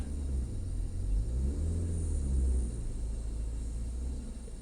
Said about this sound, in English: when you rev it, the engine's gonna hop.